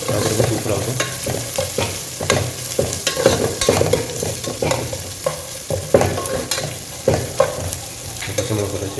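Five green chillies sizzling in hot oil alongside browning onions, with a spoon scraping and stirring the pan in repeated strokes over a constant loud fry, close and without speech.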